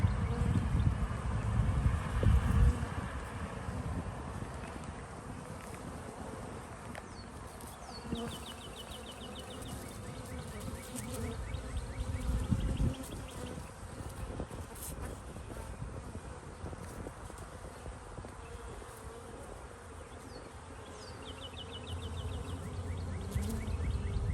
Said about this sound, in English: So clearly there's still more bees coming out from time to time.